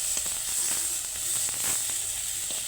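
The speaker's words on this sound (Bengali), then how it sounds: "কি সুন্দর না আঁচে ভাজা হচ্ছে দেখো" Prawns frying in a pan with onion, tomato and green chili over the flame, giving a steady close sizzle and hiss with faint crackles throughout, no voices.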